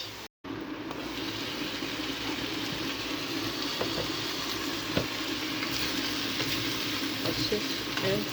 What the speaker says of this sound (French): on va laisser mijoter.